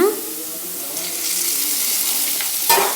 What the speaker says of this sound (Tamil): கோல்டன் ப்ரௌன் ஆகிற வரைக்கும் நல்லா ஃப்ரை பண்ணுங்கள்